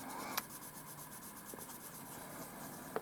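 Colored pencil scratches steadily across the page of an adult coloring book, a soft continuous rasp marked by a couple of light taps, close-up and quiet with no talking.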